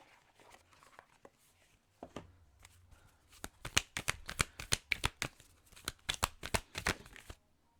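An advice card is drawn from an oracle card deck with a quick run of crisp, close riffling flicks and snaps, preceded by a soft rustle in near silence.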